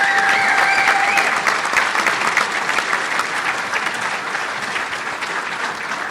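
Audience applause for a coaches hall of fame inductee at a county induction ceremony, steady dense clapping from a hall crowd that holds loud throughout and eases slightly toward the end, with a brief whistle or cheer near the start.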